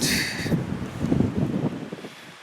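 Wind blowing outdoors on a scout trip, a steady broadband rush with gusting swells over about two seconds, with a brief higher hiss at the start.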